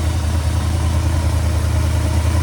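Steady, rough idle of a 1966 Pontiac Grand Prix engine on its first start in eight years, with old original-looking plugs; a continuous close, loud low rumble with slight unevenness and no talk.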